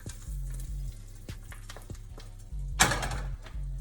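Garlic butter sizzles in a frying pan with a soft, steady crackle, a low cooking hum underneath and one brief louder burst of sizzle near the end.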